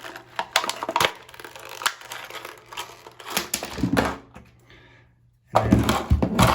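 A crimping tool clips and trims the excess wires on an ethernet cable, giving a run of close, sharp clicks and snips, a short quiet gap, then more clicking.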